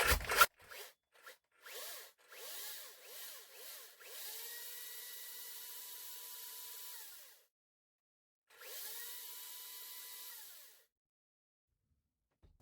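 A Makita DUC353 cordless chainsaw is switched on and run, with a series of short spurts followed by a sustained electric whir, a brief pause, then another steady run before stopping; no talking.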